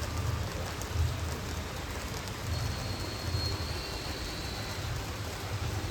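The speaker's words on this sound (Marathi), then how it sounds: "पाऊस थांबाचा काही नावच घेत नाही." Heavy rain pours down steadily across flooded fields, a soft, continuous hiss with faint low rumbles underneath that stays at an even level throughout.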